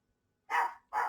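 Two loud, close barks from a household dog, evenly spaced about half a second apart, in an otherwise silent room.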